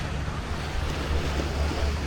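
Waves washing on a muddy-water swimming beach at Halong Bay, a continuous loud surf rush mixed with strong wind buffeting the microphone, no voices.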